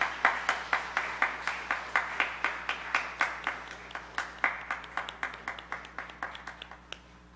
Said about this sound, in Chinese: 我们拍手祝福他